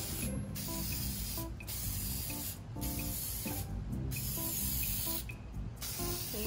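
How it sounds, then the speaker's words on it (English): Aerosol can spraying a coating onto coasters, hissing in several bursts of about a second each, separated by brief pauses, with a steady low hum underneath throughout. "Making sure to spray all the edges."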